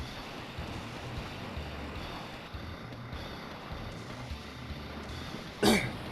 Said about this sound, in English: Sorry, I got a little bit of a cough here.